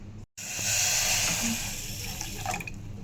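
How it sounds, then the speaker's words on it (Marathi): Water pours into a pot of sugar to make syrup for gulab jamun, a close, hissing stream that starts after a short break and runs steadily, thinning toward the end. "मापानं आपण साखर घेतली ना त्याच मापानं आता पाणी घेऊ."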